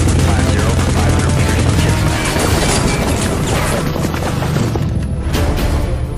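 Rapid automatic cannon fire from a 30 millimeter helicopter gun, a loud, dense roar of bursts with booming impacts, sustained throughout, with radio voices faintly mixed in.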